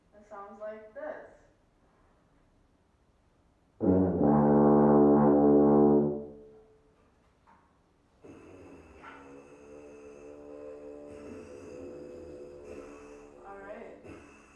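A tuba sounds a sustained low D with valves one and two pressed, one loud steady held note of about two seconds, followed later by a quieter droning tone with speech at the edges of the clip.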